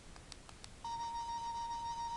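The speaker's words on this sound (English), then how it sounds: "3 is that, which is like a really weird alarm." Weird alarm effect from a toy sonic screwdriver, a few faint clicks then a steady high electronic tone that holds on at moderate level to the end.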